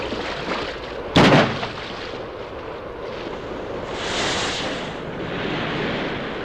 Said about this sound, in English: Fire a flare.